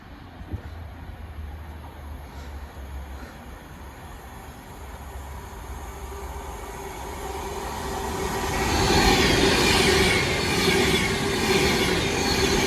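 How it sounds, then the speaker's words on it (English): An Avanti West Coast train running from Glasgow Central to London Euston passes through a station without stopping. A quiet rumble swells into a loud rush of wheels and rail noise over the last few seconds. "Through now is an Avanti West Coast service from Glasgow Central to London Euston."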